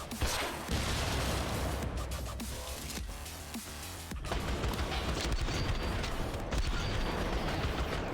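Video game combat in Syndicate (2012) with a grenade thrown and bursting amid dense, continuous gunfire and booming blasts, loud and cluttered for several seconds.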